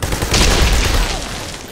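A frag grenade blast in the video game Army of Two: The Devil's Cartel gives a loud, close boom with a rumbling tail that fades over about a second.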